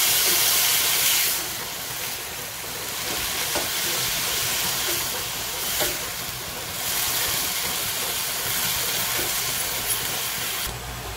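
Chopped potato stems stir-fry in a pan over a high gas flame, giving a loud, steady sizzle and hiss that swells and eases over about eleven seconds, with no voices.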